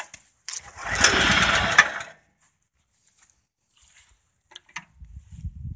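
A 1977 Sears 301cc Predator small engine cold starting with the choke on, giving a loud cranking burst of about a second that catches briefly and dies, followed by quiet with scattered clicks and a low rumble returning at the end.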